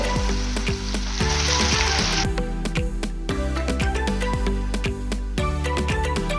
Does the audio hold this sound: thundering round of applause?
no